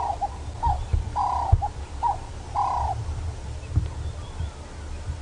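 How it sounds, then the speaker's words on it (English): A turtle dove repeats soft, low hooting coos in short phrases, moderately close, over faint background noise on a safari drive. "listen to the turtle dove singing its song"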